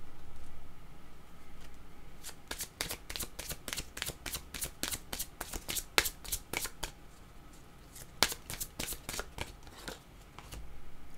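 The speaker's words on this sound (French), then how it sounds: "Je vais prendre une carte jaune." Tarot cards are riffled and shuffled by hand in a long run of sharp, crisp flutters and snaps, close and fairly quiet, with brief pauses between bursts and no talking.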